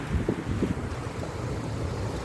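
A continuous rushing roar of water pouring down from a height in a Konkan forest, broad and steady like a distant cascade, with no voices.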